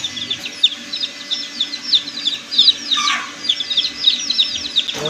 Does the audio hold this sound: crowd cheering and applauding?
no